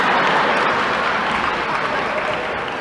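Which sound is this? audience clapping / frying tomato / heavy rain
audience clapping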